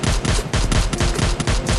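Rapid bursts of automatic gunfire from the Free Fire video game, loud and dense, with repeated sharp shots in quick clusters and brief gaps, no talking.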